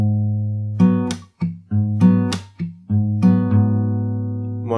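Fingerstyle acoustic guitar playing a slow chord progression, a sustained low bass note under plucked chord tones in a steady unhurried rhythm, close and clear with no talking.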